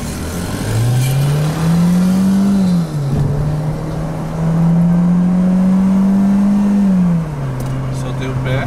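A Citroën C4 Lounge with automatic transmission accelerating under kickdown, its engine droning loudly and steadily from inside the cabin, with pitch rising, dipping at a shift, then rising again.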